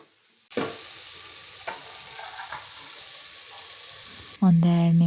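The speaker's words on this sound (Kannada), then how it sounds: "ಈಗ ಮಶ್ರೂಮ್ ಕಟ್ ಮಾಡ್ಕೊಂಡಿರೋ ಮಶ್ರೂಮ್ನ ಹಾಕ್ಕೊಂಡು ಫ್ರೈ ಮಾಡ್ಕೊತಾ ಇದ್ದೀವಿ" Chopped mushrooms frying in a pan with onion and tomato, a steady close sizzle with occasional stirring clatter, ending in a louder burst of hissing and scraping near the end.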